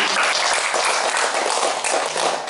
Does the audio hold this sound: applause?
yes